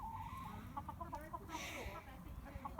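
Backyard hens, among them a black one named Betty, cluck in short repeated bursts close by, while a person talks quietly over them.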